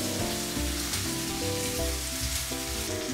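Onions fry in a hot pan for egg curry, a steady sizzle running under loud, busy background music for the whole short stretch.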